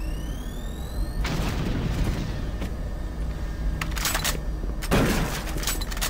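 An explosion in the video game Doom 3: a loud booming blast rolls out, followed by further sharp bangs and a second heavy burst near the end, with no talking.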